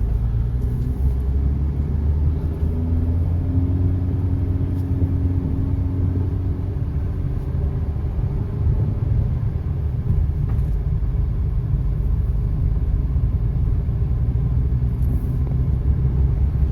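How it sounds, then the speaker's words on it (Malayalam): A vehicle climbs uphill over a broken, torn-up road, its engine and tyres making a loud, unbroken rumble from inside the cab, with no speech. "ഡ്രൈവർ വളരെ ശ്രദ്ധയോടുകൂടി ഇങ്ങനെ വണ്ടി ഓടിച്ച് കൊണ്ട് പോവുകയാണ്"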